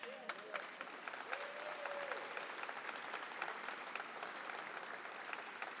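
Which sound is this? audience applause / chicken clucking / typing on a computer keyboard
audience applause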